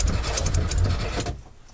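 A VW Beetle engine cranks on a cold winter start, a loud, rough, sputtering churn that labours for over a second before cutting out abruptly, close up with no talking.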